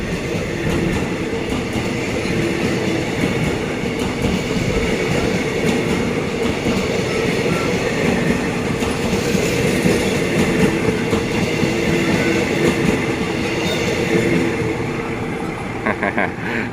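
A passenger train rumbles past close by, a loud continuous roar with rhythmic clatter of wheels over the rails, lasting throughout.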